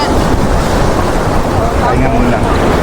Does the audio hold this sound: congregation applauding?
no